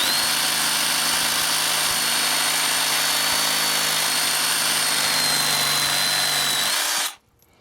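A Ridgid reciprocating saw makes a second cut, a loud steady buzzing whine that runs without a break for about seven seconds and then stops abruptly.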